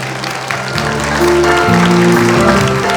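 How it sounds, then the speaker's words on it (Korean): Steady applause from a gathered audience at a social workers' conference in Daegu fills the clip, swelling slightly partway through while music with held tones plays underneath. "여러분 박수 부탁드립니다."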